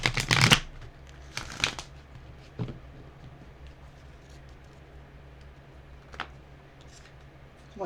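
A deck of chakra wisdom cards is riffled in two quick bursts near the start, followed by a few faint taps and handling clicks against a quiet room.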